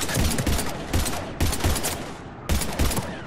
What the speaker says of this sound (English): I've got Lieutenant Vega with me, but we're taking heavy fire